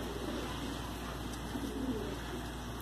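Galwa breed pigeons coo softly and continuously against a steady, noisy background hum, with low rounded calls rising briefly near the middle.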